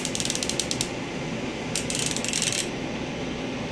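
A Husky 72-tooth half-inch drive ratchet clicking in two quick bursts of fine, rapid ticks, close up and crisp, with a short pause between.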